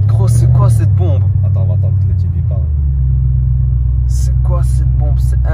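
A 900hp Audi RS7 C8 with straight pipes rumbles with a deep, steady low engine drone heard from inside, while people talk excitedly over it.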